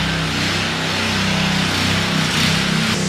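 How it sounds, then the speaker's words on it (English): A neighbor's lawn mower drones steadily outside, with the engine's low hum loud and continuous throughout and no talk over it. "Not someone mowing their lawn while we're filming."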